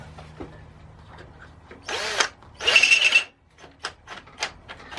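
A power drill tightens a bolt on a mini bike's light bar, giving two short, close whirring bursts with a brief pause between them, followed by a few light clicks and handling knocks.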